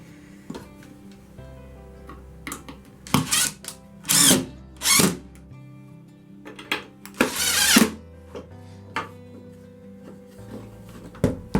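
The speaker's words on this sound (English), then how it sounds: "So are you just screwing it to the table now?" Power drill driving screws into a table to hold a stained glass leading jig, several short whirring bursts of varied length separated by quiet pauses, with small clicks and handling knocks between them.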